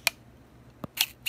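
Shutter of a 1957 Olympus Wide-E mechanical film camera fired several times, giving crisp, close, isolated clicks with short pauses between them and no talking.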